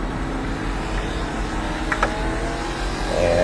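A race car engine in a sim racing video game drones steadily at high revs, a continuous loud whine with slight pitch shifts as the throttle stays open, no voices.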